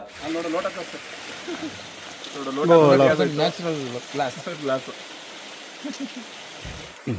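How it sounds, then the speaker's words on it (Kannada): Mountain spring water runs off a leaf like a pipe in a steady, soft trickle. It continues throughout beneath louder nearby voices talking. "ಪೈಪಿಂದ ಬರುತ್ತಲ್ಲ ಹೊರಗಡೆ ನೀರು ಆ ರೀತಿ ಬರ್ತಾ ಇದೆ"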